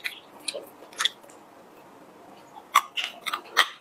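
Lotus fruit is bitten and chewed up close, with a few crisp crunching bites and soft wet chewing sounds spaced by quiet pauses.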